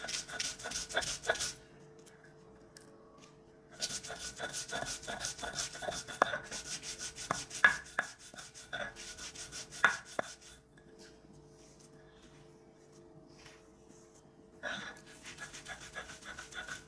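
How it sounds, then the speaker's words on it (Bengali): Dried chillies and salt being ground by hand for a Bangladeshi jackfruit-seed and prawn-shell bharta, repeated rhythmic rubbing and pounding strokes in bursts separated by short pauses, close and fairly loud. "এবার শুকনা মরিচ আর একটু লবণ দিয়ে বেটে দেবো।"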